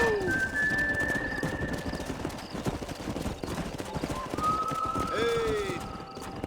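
Hooves of a horse clip-clopping in Red Dead Redemption, steady rapid beats with a couple of whinnies, heard under people talking.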